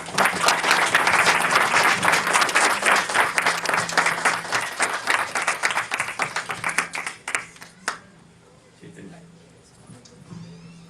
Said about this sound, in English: One round of big applause, please.